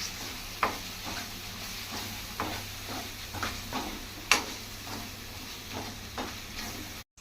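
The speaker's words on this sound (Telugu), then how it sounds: "ఇప్పుడు మొత్తం మంచిగా కలుపుకుందాం" Spiced tomato rice masala sizzles in a pan while a spoon stirs it, giving a steady close hiss broken by regular scraping strokes and one sharp clink.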